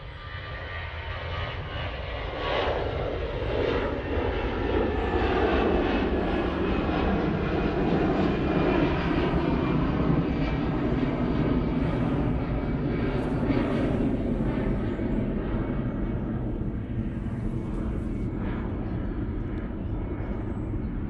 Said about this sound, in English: Lufthansa going off to Frankfurt now